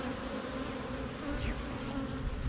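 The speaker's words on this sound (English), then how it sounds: "Some of those might be nurse bees who can't fly yet." Honeybees, including nurse bees, buzz in a dense, steady drone from an opened hive close by, a continuous hum with occasional individual bees flitting through it.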